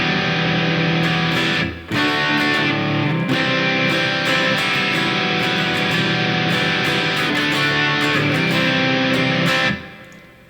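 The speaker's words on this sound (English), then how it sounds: "I've got a TC Electronic Dark Matter. It's easily available, it's inexpensive, and it's a good distortion pedal." An electric guitar is played through a TC Electronic Dark Matter distortion pedal on its own, with all controls at noon and the gain slightly higher. Thick, sustained distorted chords ring out loud and alone, with a couple of brief breaks and a final decay.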